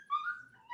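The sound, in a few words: puppy whimpering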